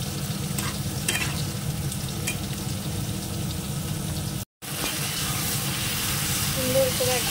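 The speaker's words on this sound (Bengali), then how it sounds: "এবার এর মধ্যে দিয়ে দেবো মাশরুমটা দিয়ে এবার একটু আবার কষিয়ে নেবো" Mushrooms stir-fried in a pan with a steady, close frying sizzle and stirring scrapes throughout, a brief cut of silence midway, then the sizzling resumes.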